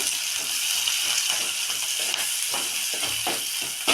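Fenugreek and coriander leaves fry in oil in a pan for a potato-tomato curry, giving a steady, close hiss and sizzle with faint crackles and no voices.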